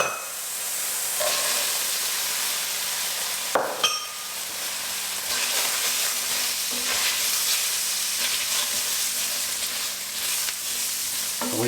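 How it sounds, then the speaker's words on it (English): Onion sautéing in a hot pan with a steady sizzle and hiss that runs throughout. A brief clatter of stirring comes near the start of the second half, then the frying settles back to a continuous crackle. "We're just going to let that saute a little bit for probably 5-10 minutes"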